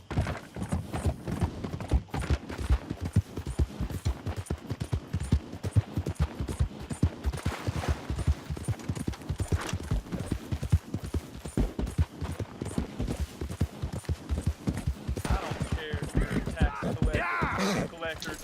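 Horse hooves clip-clopping in Red Dead Redemption 2, with a steady, close, rhythmic hoofbeat that continues throughout, while voices talk at times over it.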